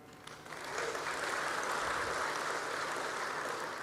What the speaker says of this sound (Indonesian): Ini yang harus kita tepuk tangani.